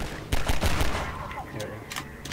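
Gunfire in the video game Half-Life 2, a quick burst of several loud shots followed by fainter scattered reports and a couple of later shots in the distance.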